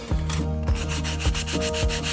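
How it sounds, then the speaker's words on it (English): Steady rhythmic sanding of a plastic scale-model part, a rough back-and-forth rubbing repeated about four times, close up with no voices. "Maybe sanding the underneath part a little thinner might help too."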